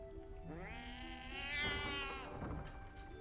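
A cat gives one long, rising and falling meow, close and clear, lasting a couple of seconds over a faint background hum.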